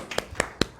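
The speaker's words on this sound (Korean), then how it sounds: "박수 한번 치시죠." A few sharp hand claps, three distinct strikes in under a second, welcoming a guest speaker to a Korean corporate workplace sexual harassment prevention lecture show; no voices.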